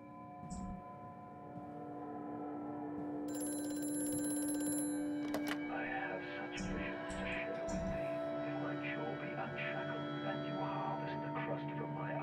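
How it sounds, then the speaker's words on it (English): An old telephone rings in the horror game Amnesia: A Machine for Pigs, a repeated metallic bell trill sounding over low droning ambience, with a few soft thuds and game noise later on. "I'm getting a phone call again."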